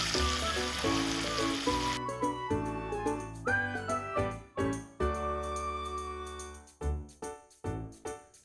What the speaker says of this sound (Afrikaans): Nou braai ons die eie en die vinkel tot dit lekker sag is.